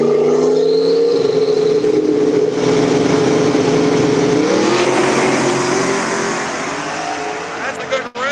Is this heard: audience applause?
no